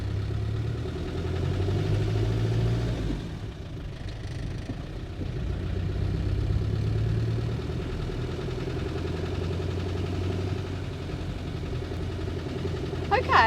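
A 90s Land Rover Defender engine drones low and steady while driving slowly across a train station car park, rumbling with slight swells in loudness, close and continuous, with no talking.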